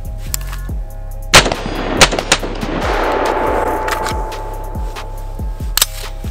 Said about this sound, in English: Hear that double shot?